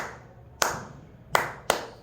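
Three crisp hand claps ring out alone in a quiet room, one followed after a pause by two quicker ones close together, forming a short rhythm pattern in a classroom rhythm game.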